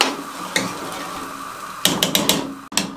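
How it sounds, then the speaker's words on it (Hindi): Gravy is stirred into bong paya in a kadai over a high flame, with a spoon clanking and scraping against the metal in a few sharp, uneven knocks over a low cooking hiss. "इसको हाई फ्लेम पे इस तरीके से मिक्स करके और पकने के लिए छोड़ देंगे।"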